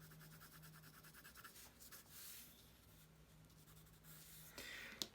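Charcoal pencil shading on paper for a simple bell pepper drawing, a soft continuous scratchy rubbing with short strokes going over the tones again, fairly quiet and close.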